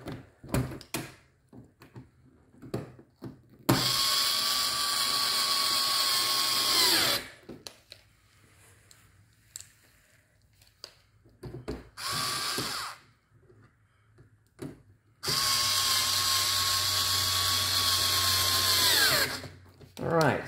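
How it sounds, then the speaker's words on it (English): Power drill driving Torx screws into a C7 Corvette wheel well, in two long, loud whirring runs separated by quieter stretches of handling clicks and soft talk. "Two torque screws here into the wheel well to lock this down."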